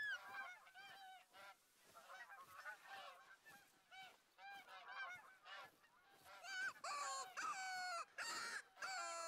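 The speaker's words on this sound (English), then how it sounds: "Is that the geese call or is this the geese call?" Repeated honking goose calls in the video game theHunter: Call of the Wild, nasal and squawky, come in quick bursts and grow louder toward the end, with no talking over them.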